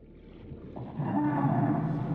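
A deep, drawn-out moaning call of a Gargantuan Leviathan in a video game rises from a low rumble, like a huge creature groaning underwater, swelling louder and holding toward the end.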